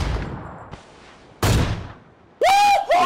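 An AWM sniper rifle fires in the battle royale game PUBG: loud, sharp gunshots with echoing tails, one at the start, a heavier one in the middle, and a final blast layered with bright ringing tones.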